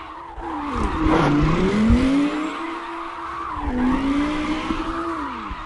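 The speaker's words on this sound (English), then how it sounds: "Cars are annoying loud." Loud, continuous tire squeals and engine roar from racing cars skidding in the video game CarX, with pitch sweeping up and down over a steady motor drone.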